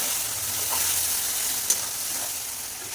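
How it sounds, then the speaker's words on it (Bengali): A paste of onion, garlic, ginger, chili and black pepper fries in a pan, giving off a steady soft sizzle with a faint stirring scrape and no one talking. "দিয়ে এটাকে ভালো করে এখন কষাতে থাকবে।"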